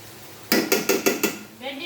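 Okra frying with oil, turmeric, green chilli and onion gets stirred in a pan, giving five sharp, evenly spaced metallic scrapes of a spoon against the pan's side, close and loud, before a softer sizzle takes over.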